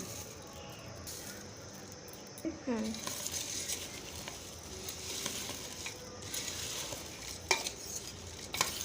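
Puffed rice being tossed and mixed by hand with jhal muri ingredients in a bowl, a continuous soft rustling and crunching with occasional light clinks and taps throughout.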